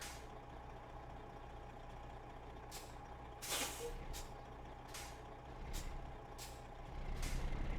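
A truck backs up to a loading dock in American Truck Simulator, with steady engine idle, a sharp hiss of air brakes and a regular series of reversing beeps sounding at even intervals.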